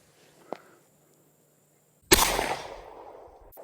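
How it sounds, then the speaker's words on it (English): A Marlin Model 45 Camp Carbine rifle fires once at close range with a sharp, loud crack that rings off for over a second, preceded by a small faint click. "We're going to shoot 5 rounds."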